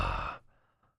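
A voice imitates the masked breathing of Darth Vader with a single loud, breathy exhale that quickly fades into a faint trailing breath.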